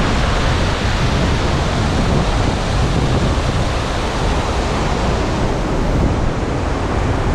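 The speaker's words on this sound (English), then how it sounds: "You can see there's a lot of wind today, and especially in this part where the waterfall is the biggest, the largest." The Bopath Ella waterfall in Sri Lanka roars as a dense, loud, unbroken wash of rushing water, with strong wind buffeting the microphone throughout.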